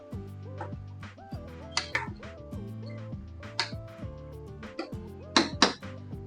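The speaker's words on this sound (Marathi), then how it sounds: "थोडीशी कोथिंबीर टाकते. ढवळून घेते चांगली." A spoon clinks and scrapes against a pan while stirring spiced moth bean curry with fresh coriander, irregular light metallic taps and knocks over a steady low hum, with sharper clatters toward the end.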